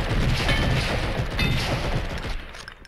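Rapid, dense gunfire from the video game Blood and Bacon, a shooter about killing undead pigs, rattling on continuously and loudly for the whole stretch before easing slightly at the end.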